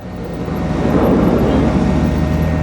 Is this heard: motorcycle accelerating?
yes